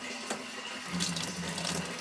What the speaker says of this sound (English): the water flow into the barrel